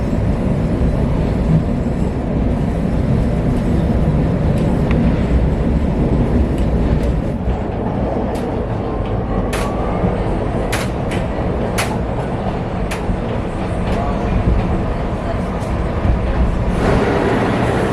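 Steady loud rumble inside a moving Chicago transit train, constant low roar with occasional faint clicks and squeaks, no talking.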